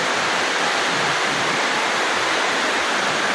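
Heavy rain pours down on a rural property, water running off a leaking roof, a dense, steady, loud rushing hiss with no breaks and no voices.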